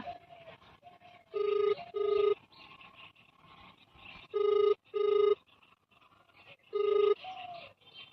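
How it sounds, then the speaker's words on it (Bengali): A telephone ringback tone rings out in three paired bursts, loud and regular, with faint background chatter and low noise between the rings. "রিং হচ্ছে কিন্তু তুলবে নাকি জানিনি"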